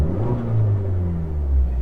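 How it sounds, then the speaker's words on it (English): A parked Abarth car's boosted engine revs briefly with a deep rumble that climbs and falls in pitch, close and fairly loud, with no voices over it. "it sounds like, you know, a blow-off valve, pretty much"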